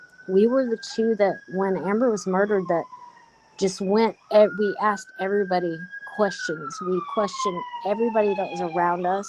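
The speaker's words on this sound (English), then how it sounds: "Sorry about the sirens." Emergency vehicle sirens wail faintly in the background, a rising and falling tone running steadily beneath someone speaking close to the microphone.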